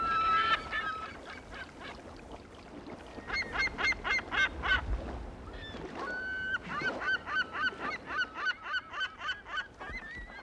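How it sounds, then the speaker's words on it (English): California gulls calling at Yellowstone Lake, a loud series of repeated harsh, honking cries in rhythmic bursts, several birds overlapping, close and clear with no talk. "the California gulls."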